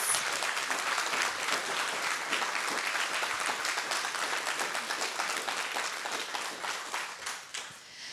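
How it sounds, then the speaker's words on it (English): A conference audience applauds a panel of speakers with steady, close clapping that holds throughout and softens slightly near the end. "Let's give a round of applause for these incredible women leaders."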